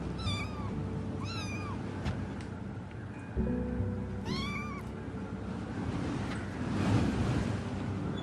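Kitten meowing in a film scene, several short rising mews spaced a few seconds apart over a constant wash of surf-like ambient noise, fairly close and clear.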